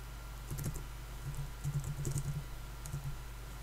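Typing on a computer keyboard during Ubuntu setup: short clusters of light key taps in uneven bursts, quiet and close over a steady low hum, with no speech.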